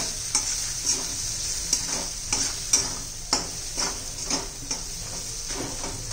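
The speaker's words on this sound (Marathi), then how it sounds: "हे छान आपण आता तेलामध्ये परतून घेऊया." Coriander and cumin powder with homemade masala sauté in oil, a spoon scraping the pan in steady repeated strokes over a bright, constant hiss.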